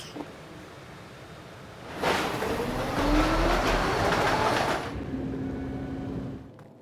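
A metro train in the video game Assassin's Creed 3 runs along the track over a low ambient bed, its loud clattering rumble swelling in for a few seconds and then easing off with a faint whine.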